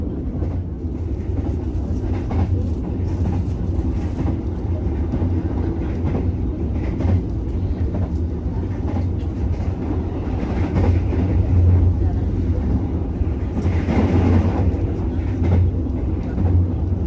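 A passenger train runs past on the railway near Haurgeulis station in Indonesia, a steady loud rumble of wheels and carriages holding for the whole stretch with a faint clickety-clack, close by and uninterrupted.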